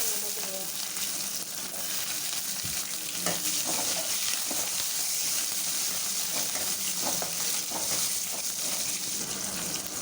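Steady sizzling of shallots frying in a pan, a continuous crackle with occasional stirring scrapes, close and moderately loud, no talking.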